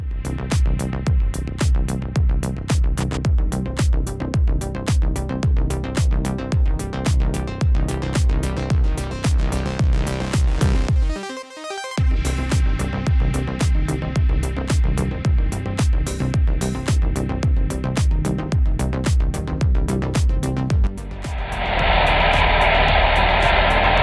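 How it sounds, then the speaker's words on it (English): A B11 bulldozer with a D-180 engine and hydraulic fan drive runs with a loud, heavy droning roar and a fast pulsing beat, briefly cutting out midway before resuming, then joined by a harsh hissing burst near the end. "this B11 with a D-180 engine and hydraulic fan drive proves its worth"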